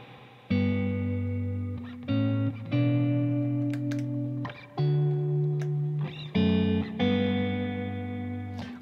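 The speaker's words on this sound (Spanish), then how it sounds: "Y aquí en el D, guardé una reverb." Electric guitar played through a reverb preset on a Valeton GP-200 multi-effects pedal, several sustained chords with short gaps between them, each ringing out with a smooth wash of reverb tail, close and fairly loud, no talking.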